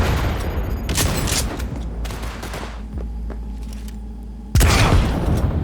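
A weapon firing in Cyberpunk 2077, heavy booming shots with a mechanical whir and rumble between them, then a final loud blast, with no talk.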